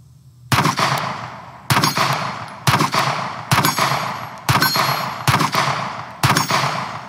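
Seven sharp, loud pistol shots from a Sig Sauer P635 X-Macro fired at an outdoor range, spaced roughly a second apart in a steady rhythm, each with a short decaying echo and no talking.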